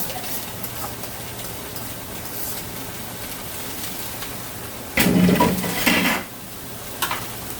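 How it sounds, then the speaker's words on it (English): Cabbage fries and sizzles in a hot pan beside cooling oxtail in a home kitchen, giving a steady hiss with a louder burst of sizzling and clatter partway through, with no talking. "You hear that sizzle?"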